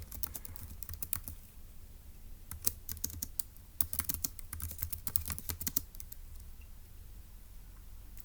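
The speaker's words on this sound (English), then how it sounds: "So let's go ahead and type that up." Keys clatter on a computer keyboard as puzzle notes are typed, a steady run of quick clicks in bursts with short pauses, close and fairly quiet, no voices.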